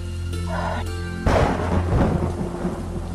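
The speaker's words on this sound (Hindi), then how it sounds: "बाहर तो बहुत तेज बारिश हो रही है। जी, और बिजली भी बहुत कड़क रही है।" Heavy rain pours steadily outside while a loud rumbling thunderclap breaks in partway through and rolls on beneath the downpour.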